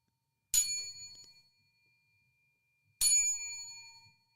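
A bell is struck twice for a 29-bell salute, each a sharp metallic ding with a ringing tail of about a second, the two strikes roughly two and a half seconds apart, alone and close.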